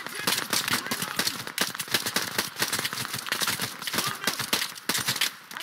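Rapid automatic gunfire in the video game Operation Harsh Doorstop, a dense, continuous rattle of overlapping shots that fills the whole stretch at steady loudness.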